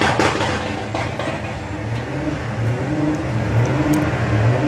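A Volkswagen drag racing car in the 2021 VWDRC Pro vs Sportsman shootout at Bug Jam roars loudly and steadily as it accelerates down the strip, with the engine droning on its own and no talk.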